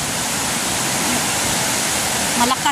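Floodwater rushes down from the fields in a loud, steady torrent, a dense, continuous wash of roaring water that fills the whole short stretch without pause.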